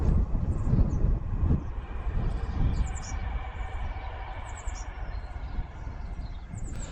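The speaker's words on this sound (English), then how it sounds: "a train comes past as soon as I try and start talking to you" A train rumbles past outdoors in Britain, a broad low roar that is loudest at the start and slowly fades, with wind buffeting the microphone and birds chirping faintly above it.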